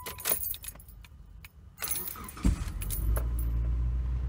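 A 2003 Mitsubishi Lancer ES after spark plug replacement: keys jangle close up for a couple of seconds, then the engine cranks and catches, settling into a steady low idle.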